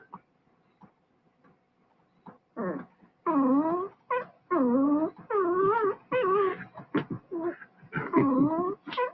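A newborn puppy about two days old whimpers close by in a series of high, wavering whines and short yips, the cries coming in bursts separated by brief pauses.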